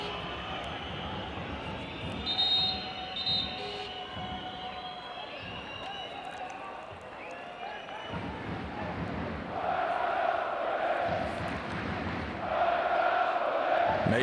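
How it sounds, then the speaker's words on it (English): AEK basketball fans fill an arena with sustained singing and rhythmic chanting during a Champions League game against Galatasaray, a dense crowd roar that swells and holds from mid-distance. "the AEK fans really bringing the noise, the songs, the chants"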